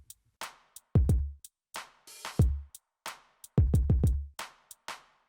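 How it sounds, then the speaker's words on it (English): A dry hip hop drum beat heard alone, with punchy kicks, snares and crisp hi-hats in a steady repeating pattern, clear and up front with no added effects. "And now the drums are unaffected by the effects on the group and sound like this."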